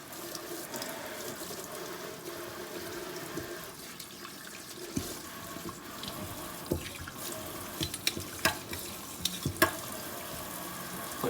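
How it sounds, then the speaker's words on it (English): Water runs steadily from a kitchen tap into the sink as it is washed out, with a continuous splashing hiss broken by small clinks and knocks toward the end. "now we wash out the sink"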